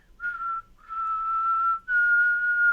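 A person whistles a steady, pure tone imitating a 1 kHz tape alignment tone used to line up the tracks of an analog recorder, in three held stretches with short breaths between, clear and close.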